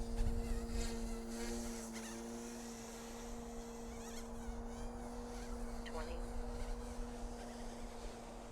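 An Eachine E150 direct-drive RC helicopter whines steadily at high rotor RPM while spinning in yaw, a close, constant buzzing drone with a strong sustained hum throughout, and a voice speaks over it.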